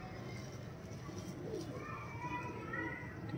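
Rajasthani pigeons in a loft coo softly in the background, low throaty murmurs under a steady hum of surroundings, while someone talks and children can be heard faintly.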